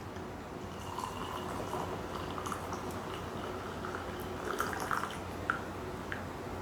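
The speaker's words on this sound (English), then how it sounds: "Pour the tea first and then get it back hot." 2018 Golden Turtle oolong tea being poured, a steady soft liquid hiss with faint drips and small clinks throughout, no voices.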